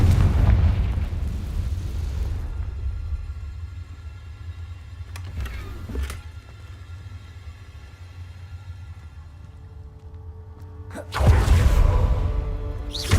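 In the video game Hogwarts Legacy, fiery Confringo spell blasts go off as loud booming bursts at the start, around the six-second mark and near the end, with low rumbling ambience between them.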